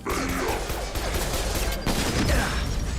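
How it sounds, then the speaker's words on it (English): A missile strikes the player in Mass Effect 2 on Hardcore difficulty amid dense, continuous combat noise, loud and cluttered, with a sharper impact burst near the end. "Ow, that was another missile."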